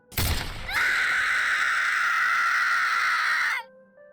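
A drawn-out, high scream from a voiced character in a visual novel game sounds loud and sustained for about three seconds after a brief sharp onset, then cuts off abruptly.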